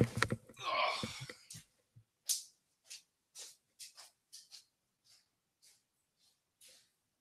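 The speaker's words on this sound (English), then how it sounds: "my dog is barking" A dog barks indoors, a run of short, fairly faint barks spaced about half a second apart after a brief burst of breathy noise, with no talking.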